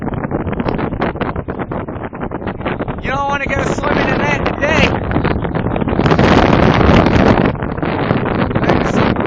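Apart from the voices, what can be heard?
strong gusty wind at stormy seashore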